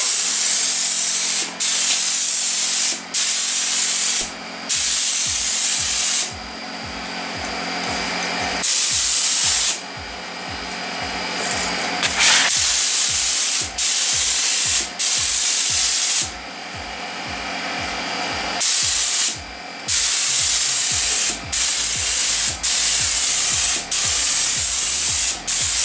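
A spray gun lays a metallic coat on a car's rear quarter panel in loud hissing bursts a few seconds long, separated by brief pauses, with rhythmic compressor pulsing underneath and no talking.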